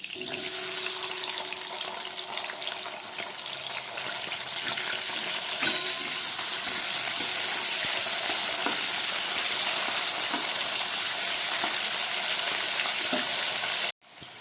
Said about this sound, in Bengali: এইবার এই তেলের মধ্যে আমি